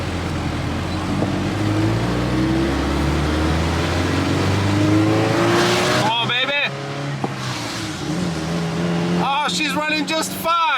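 An old, worn pickup truck engine runs steadily and loudly, its pitch rising as it revs up, with some chatter and other noise breaking in over it.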